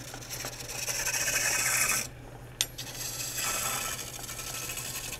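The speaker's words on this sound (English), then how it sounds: "Nice turning green wood." A chisel shaves green wood on a spinning lathe while turning a Windsor chair leg, a steady rasping cut that stops briefly, gives one sharp knock, then resumes close and continuous without talk.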